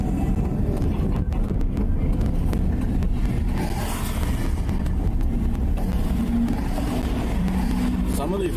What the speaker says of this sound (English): It was this guy's motorcycle.